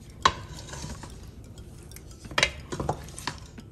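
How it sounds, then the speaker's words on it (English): Paneer being stirred into butter masala gravy in a pan, with a sharp utensil clink near the start and a few soft scraping knocks later, close and fairly quiet. "You will mix the paneer into the gravy."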